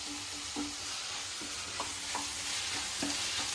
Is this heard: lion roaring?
no